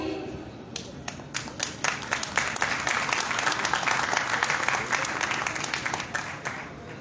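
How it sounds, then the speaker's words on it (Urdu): Audience members applaud at a company's fifth anniversary ceremony, a few scattered claps building quickly into full, steady applause from a large crowd that carries on to the end. "اور اب آپ کی پرزور تالیاں ہی سر کو دروازے تک پہنچانی چاہیے"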